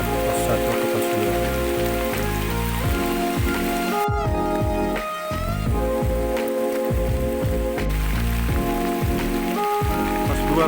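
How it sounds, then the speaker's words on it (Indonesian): Heavy rain pours steadily on a forest hiking trail near Pos 2 of Mount Slamet, reached via Guci, in October. The dense hiss of drops continues throughout, partly masked by music playing over it. "Pos 2 hujan besar."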